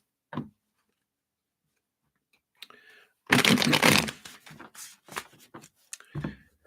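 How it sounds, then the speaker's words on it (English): Tarot cards shuffled by hand during a live reading, a burst of dense riffling followed by several short card snaps and taps, fairly close, with no talking over them. "let me just shuffle these up here"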